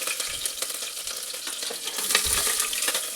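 Oil sizzles and spits steadily in a pan in a village kitchen, with salted rice being cooked, a close, continuous crackle that swells slightly midway, without any talk.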